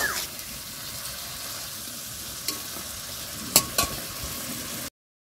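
Fish pieces sautéing in a pan for a Bengali curry, a steady close sizzle with a few sharp clinks of a spoon stirring, continuing without talk until the sound cuts off.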